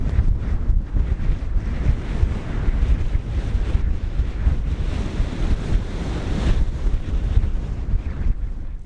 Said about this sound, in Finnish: ja melkoinen tuuli.